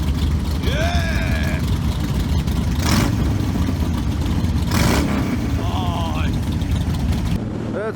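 A pack of 40-plus Harley-Davidson motorcycles rumbles together through a tunnel, a dense, loud, continuous engine roar with revving swells and occasional throttle rises, close and echoing.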